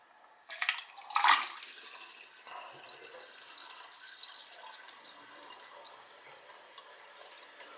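Water poured into a damaged condensate pump: a sudden splashing pour near the start, then a steady faint trickle and drip that continues quietly to the end.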